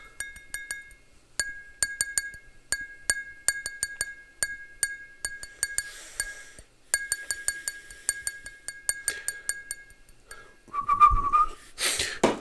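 A Coke glass is tapped in a quick, steady rhythm, each light clink ringing with a high tone, the pattern repeating for several seconds.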